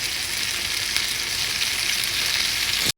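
Linguine pasta with Cajun gizzards stirred in a pan with olive oil, a constant bright sizzle close up with faint stirring movements, ending in a brief cutoff.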